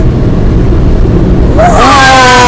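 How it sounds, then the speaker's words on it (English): A car wash air dryer blasts a loud, steady rushing roar over the car from inside the vehicle, with a rising whine swelling toward the end. "It's blowing the car dry."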